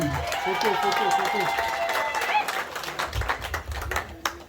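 A wedding crowd at a customary marriage celebration in Le Mans, France claps in a burst of applause over music, the clapping close and busy before fading, with a voice calling out over it.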